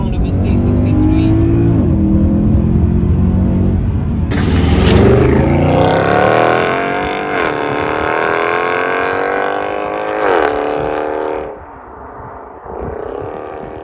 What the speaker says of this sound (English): This car, it sounds like thunder.